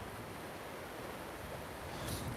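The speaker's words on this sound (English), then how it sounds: "You could surf these waves now almost." Ocean surf rolls in as a steady broadband wash, heard from the deck of a cruise ship with wind rumbling across the microphone, and a slightly stronger wave surge arrives near the end.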